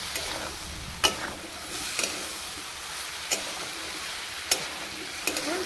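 Vegetables with spices and half a cup of water being stirred in a pan, a soft steady simmering hiss punctuated by occasional sharp spatula taps against the metal.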